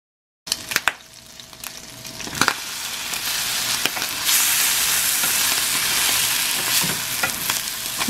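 Salsa hits a hot pan holding egg and chile, setting off a sudden loud sizzle that swells and holds steady, with a few sharp clacks of a utensil stirring near the start.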